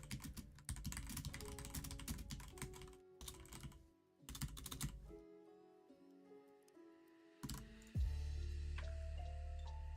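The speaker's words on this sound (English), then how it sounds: "I'm such a heavy-handed typer." Heavy-handed typing on a computer keyboard produces dense, rapid clacking in bursts separated by short pauses, close and loud, with a sustained hum entering toward the end.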